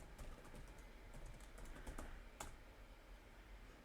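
A name is typed on a computer keyboard in a run of quick, soft clicks, close and steady with no talking.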